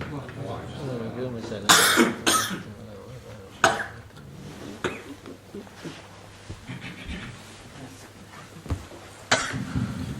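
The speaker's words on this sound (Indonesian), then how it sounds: "Meskipun batuk Mekahnya masih ada nih, belum hilang ya" Several sharp, loud coughs and throat clearing from one person, with lingering throat irritation from a pilgrimage cough, burst out in separate fits among quieter talk in an indoor setting.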